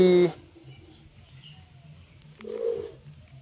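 A red Sirazi pigeon gives a short, soft coo at close range, standing out against low background rumble and a brief burst of other noise at the start.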